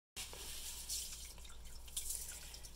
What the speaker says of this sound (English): Our red beans, gonna wash them in some water and then discard the broken ones.